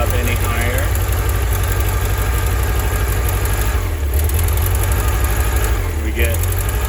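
A 1983 Volkswagen Vanagon engine runs loud and steady with a low droning hum, its pitch rising and dipping slightly as the throttle changes, while a voice speaks over it.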